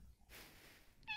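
A single short cat meow from the video game Timelie, soft and fairly close, rising after a brief pause and closing with a clear tonal chirp.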